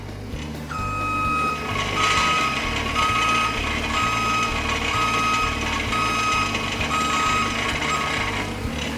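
A forklift's reversing alarm beeps in a steady, evenly spaced rhythm while the truck sits in reverse gear during pre-start checks, with a constant engine hum underneath.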